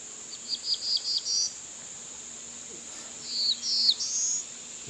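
A black-throated blue warbler sings its raspy, buzzy song outdoors, two short phrases a few seconds apart, rising at the end, over a steady background of insect and cricket trilling.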